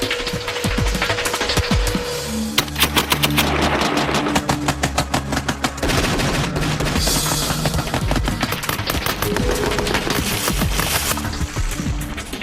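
Heavy weapon fire hits a big barrel target, with dense rapid bursts of loud gunshots in fast sustained volleys and a rumbling machine drone, close and very loud.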